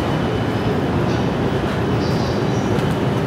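Train rumbling through JR Tokyo Station, a dense continuous roar of wheels and rail noise, loud and close with no pauses.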